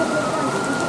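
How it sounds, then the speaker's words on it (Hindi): Heavy rain drumming on a tin roof in a mountain area, a dense, loud, continuous patter heard up close with no pauses and no talking. "शायद थोड़ी हल्की हो जाएगी बारिश, अभी जाना ठीक नहीं है बारिश में।"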